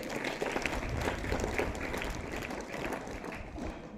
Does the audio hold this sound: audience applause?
yes